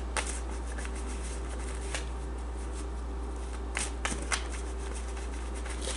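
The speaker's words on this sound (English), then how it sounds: "I'm going to pull some tarot cards to get a better feel of what that's" Tarot cards being shuffled by hand, a few soft riffling bursts and light slaps scattered across a quiet, low background hum.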